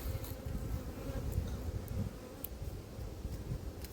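Honeybees buzz continuously at close range in an apiary, a low droning hum with occasional faint ticks, no voices.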